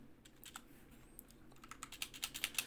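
Keys on a computer keyboard click in a quick, steady run that grows slightly louder toward the end. The sound is close and fairly quiet against a faint background hum.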